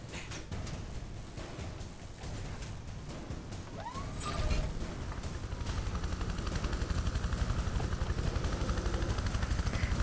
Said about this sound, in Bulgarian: Време е да изпържим останалите хеликоптери.